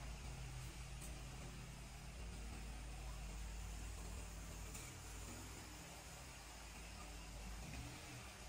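A car engine runs steadily as the vehicle sets off for a drive to a restaurant, a low continuous rumble with a faint wash of noise over it and no clear revving.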